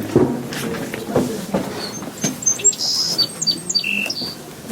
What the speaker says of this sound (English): It's a song sparrow.